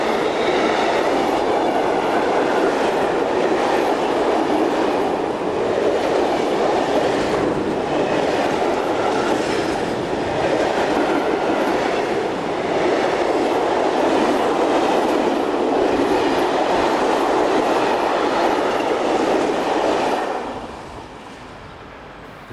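A train runs along a Luxembourg railway line out of Bettembourg Yard, a steady loud rumble with rhythmic clickety-clack from the wheels that holds for about twenty seconds before dropping away.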